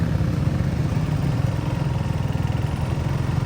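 Motorcycle on a hill tour to Chandradinga in Bangladesh, a continuous close engine drone with a low rumbling throb and steady wind roar, no talking.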